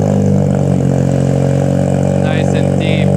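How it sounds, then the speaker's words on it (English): A cold-started RWB Porsche engine idles loud and deep, with a steady low rumble and strong harmonic drone throughout and brief higher whines near the end. "Max is gonna fire it up for us"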